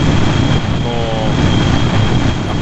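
A spaceplane engine from Kerbal Space Program drones loudly and steadily, a dense constant roar with a thin high whine running through it.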